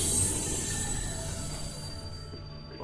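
Train carriages in the video game 1000xRESISt rumbling and shaking on the rails, with a steady loud roar and high metallic wheel squeal that fades out toward the end, no voices.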